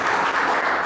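Congregation applause during a church service, a brief dense burst of many hands clapping together, loud and even throughout.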